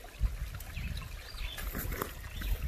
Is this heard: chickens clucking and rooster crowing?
no